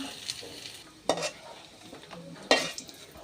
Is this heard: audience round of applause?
no